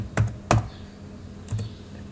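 A computer keyboard is typed on, giving three distinct close keystroke clicks spaced unevenly over about two seconds, with no talking.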